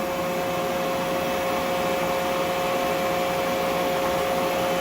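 A Union BFT105 boring machine hums with a steady tonal whine as its spindle speeds up from 300 to 700 RPM, the drone continuous and fairly loud over broad mechanical noise.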